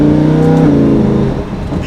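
Lamborghini Huracan LP 610-4 engine drops in pitch through quick twin-clutch gearbox downshifts, loud and close, with a steady rumble fading slightly toward the end.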